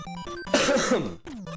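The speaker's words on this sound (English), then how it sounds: "I apologize for all the coughing and wheezing." A single harsh cough or throat clearing bursts out, brief and close, with short voiced sounds just before and after it.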